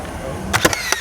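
A Makita framing nailer fires in bump mode at a trade show, giving three or four sharp, loud bangs in quick succession over a steady background hum.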